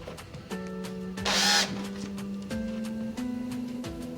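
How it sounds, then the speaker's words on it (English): A power drill runs steadily while boring holes into a band, its motor whine stepping between pitches as load changes, with a brief louder grinding burst as the bit bites in. "I drill these out."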